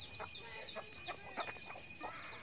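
Chickens in a small backyard poultry shed behind a house, several soft clucks and short calls scattered across a couple of seconds, faint and somewhat distant, with a steady high electrical whine underneath.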